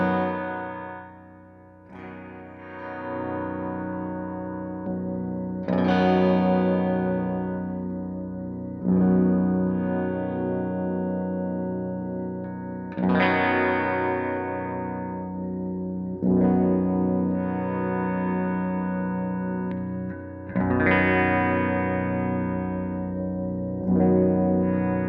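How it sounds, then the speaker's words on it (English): A homemade baritone Telecaster electric guitar plays deep, sustained chords that ring out and decay, about six strums in total, with the tone growing darker across its pickup positions as the tone control is rolled off. "Let's hear the tone roll off in each position."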